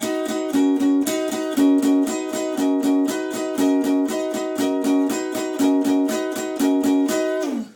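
An electric guitar strums a chord in a fast, steady rhythm, fingers lifting off and back onto a barre so the pattern shifts slightly as notes change, bright and close with no talking.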